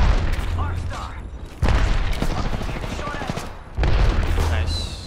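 Apex Legends gunfire comes in close, loud bursts, with dense rapid shots, heavy booms and mechanical clatter. A second loud volley follows after a brief dip, and players talk over it.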